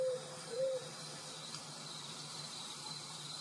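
An owl hoots twice, short tonal calls close together near the start, over a constant faint chorus of crickets and insects in a forest at night, with no voices.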